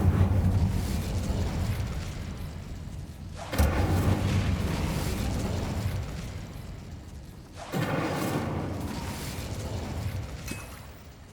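Incendio fire spell in Hogwarts Legacy: two sudden whooshing blasts of flame, roughly four seconds apart, each flaring loudly and close then trailing into a crackling roar over a low ambient bed.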